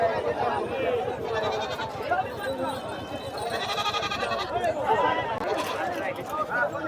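A goat bleats a few times amid busy crowd noise, with people talking steadily close by, at a goat and sheep market.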